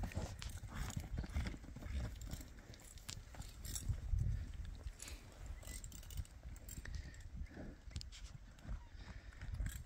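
Hooves of a bay ranch horse clip-clop steadily outdoors, close and fairly loud, over rustling ground noise with scattered faint thuds.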